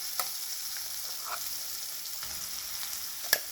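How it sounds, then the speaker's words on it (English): Ground gongura (roselle) leaf paste being sauteed with garlic and masala tempering for Andhra pickle, a soft steady sizzle with faint stirring scrapes and one sharp utensil tap near the end, no talking. "keep sauteing till all the mixture is mixed with the garlic, the masala, and also here we add the ground masala"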